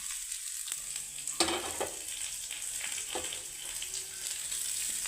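Onions and curry leaves hit hot oil in a pan with a sudden crackle, then a steady frying sizzle continues with occasional stirring scrapes.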